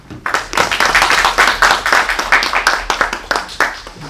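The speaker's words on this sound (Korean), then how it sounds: "세 분 패널 분들께 큰 박수 부탁드립니다" An audience at an education administration forum claps for the panel, close, loud and uneven, starting abruptly and pulsing with individual hand claps before easing off.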